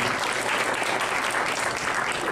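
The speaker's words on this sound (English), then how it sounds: "your team ought to take a round of applause for getting this ropes together and doing this" Steady, dense applause from a talent-show audience at a semifinal night, filling the whole stretch evenly and loudly with no pause or voice.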